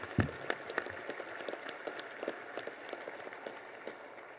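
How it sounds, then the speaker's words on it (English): Banquet audience clapping at a hall of honor award dinner, a quiet, distant patter of many hands that fades in intensity across the stretch. "And if we could give them applause."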